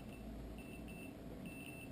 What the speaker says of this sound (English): count indicator there that's beeping